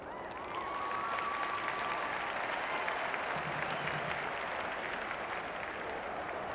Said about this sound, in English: The crowd already making plenty of noise as the captains come together in the middle.